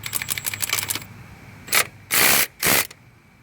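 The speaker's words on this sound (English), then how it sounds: "Alright, a little ratchet." A small ratchet tightening a bolt during a shop repair of a branch tube, a quick run of close clicking followed by several longer hissing, spray-like bursts.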